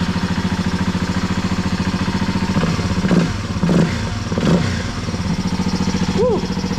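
Kawasaki KLX 300 single-cylinder dirt bike with the airbox lid removed and O2 sensor deleted, idling with a fast, even thumping, then blipped in a few sharp revs, close and loud.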